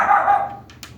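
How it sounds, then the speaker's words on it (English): Small dogs barking in the background indoors, one short yip-like bark followed by faint higher yelps, fairly near but brief, with no speech. "If you hear little dogs barking in the back, we have a couple of them."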